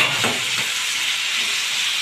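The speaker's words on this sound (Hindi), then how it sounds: "हम इसको पकने देते हैं जब तक कि हमारे आलू फ्राई हो जाते हैं।" Potatoes frying in a pan make a constant, fairly loud hissing sizzle, with faint stirring scrapes in the first moments.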